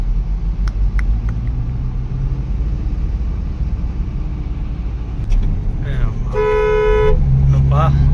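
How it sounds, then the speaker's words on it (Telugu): Traffic on the Tirumala hill road: a steady engine rumble and passing vehicles, then a loud, sustained car horn near the end, with people talking over the road noise. "తిరుమల కొండ మీద కూడా ట్రాఫిక్ కదా, ఎంత ట్రాఫిక్ అసలు"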